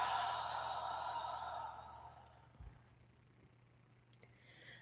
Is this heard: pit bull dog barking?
no